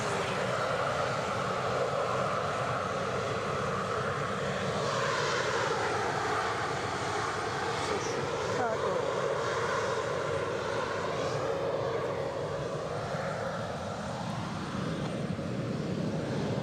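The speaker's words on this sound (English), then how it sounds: "an Embraer 190 standard, 14 years of age, going where you'd expect it to really, with a KLM tail fin departing from Edinburgh, off to Amsterdam" A KLM Embraer 190 jet departs Edinburgh bound for Amsterdam, its engines roaring loudly and continuously with a broad rushing tone whose pitch sweeps and wavers as it passes at fairly close range.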